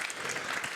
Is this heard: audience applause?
yes